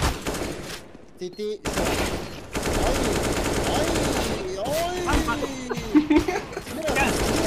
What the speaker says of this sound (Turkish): Bana ne sıkıyorsun?